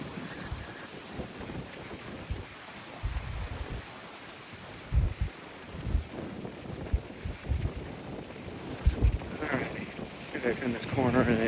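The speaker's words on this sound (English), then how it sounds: "And there's another gust of wind." Strong gusts of wind buffet a handheld camera microphone outdoors while walking around a town street corner near a country club and golf course, producing loud irregular rumbling bursts that come and go throughout.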